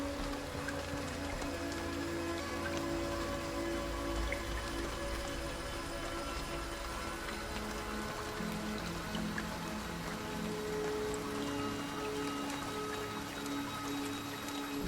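Steady rain pours continuously in the horror game Lorelai, a dense even hiss with faint drips and patter throughout, no voices, uniform in level from start to end.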